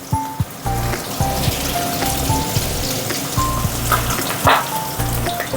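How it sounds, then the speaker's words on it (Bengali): Katla fish frying in hot oil, a steady close sizzle with crackling pops and spatters, joined by intermittent low rhythmic thumps in the background. "তাহলে প্রথমে মাছটা আমি ভেজে নিই"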